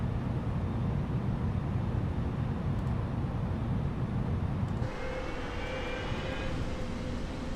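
An Airbus A320neo airliner lands in Microsoft Flight Simulator with a steady, loud broadband roar of engine and airflow. Partway through, the roar drops a little and a thin whine rises above it. No one speaks.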